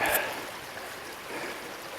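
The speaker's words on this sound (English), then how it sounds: "There's a big man-made waterfall dam thing up there." Water pours over a large man-made waterfall dam beside a mountain trail, a steady, broad rush heard at some distance with a brief breathy sound at the start.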